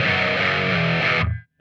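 A brief burst of brighter, crunchy distorted electric guitar, a 2022 Dean V 79 on the bridge pickup, rings out loud, shifts chord once, then stops sharply into silence.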